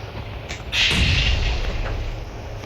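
A bomb blast in the PUBG battle royale game: a heavy, booming detonation lands about three quarters of a second in, then a sustained rumbling roar carries on to the end, with no voices.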